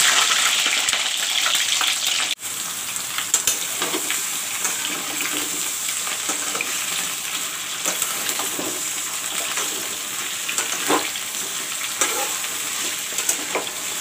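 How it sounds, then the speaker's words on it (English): Brinjal and potato pieces frying in hot mustard oil, a steady close sizzle with scattered spits and crackles and a brief sharp knock early on, with no one talking. "Now I'll fry the brinjal and the potatoes."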